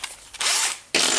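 A power drill spins a Makita DTD146 impact driver armature being cleaned with sanding paper, giving short bursts of high whirring with a brief pause between, close and loud.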